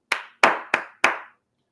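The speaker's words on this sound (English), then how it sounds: "Everyone applaud Chloe." Four sharp, close hand claps in an uneven rhythm, each with a short ringing decay, given to applaud Chloe, followed by silence.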